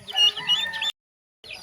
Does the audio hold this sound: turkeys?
yes